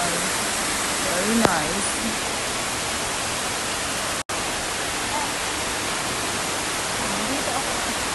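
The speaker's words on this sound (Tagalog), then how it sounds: "Kaka-relax ang tunog ng waterfalls." Steady rushing water from a waterfall in a flowering nature spot, a constant broadband hiss with a brief person's voice over it.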